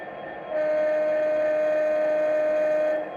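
Low air horn of an Accurascale OO gauge class 66 model locomotive sounds as one sustained, steady tone lasting about two and a half seconds, loud and close, starting and stopping cleanly.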